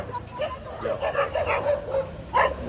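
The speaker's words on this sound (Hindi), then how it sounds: "यहाँ कुत्ते लोग की लड़ाई चल रही है, तो ओके कुत्ते भौंक रहे" Several dogs barking, yipping and whimpering in a scuffle, a continuous messy run of overlapping barks at moderate distance, with a louder burst near the end.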